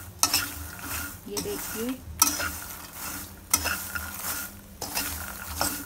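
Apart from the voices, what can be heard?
makhana (fox nuts) being roasted and stirred with spices in a pan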